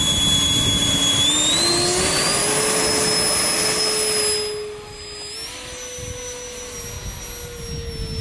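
An EDF jet glider flies through spins and loops, giving a loud, continuous ducted-fan whine. Its pitch climbs slowly, then eases off and steps back up as the glider manoeuvres overhead.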